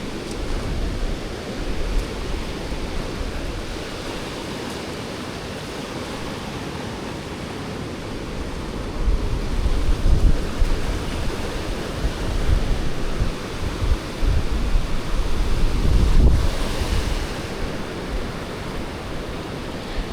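Ocean surf at Oceanside Beach, Oregon, a steady broad roar of breaking waves with wind buffeting the microphone, swelling louder in the second half as the water rushes closer.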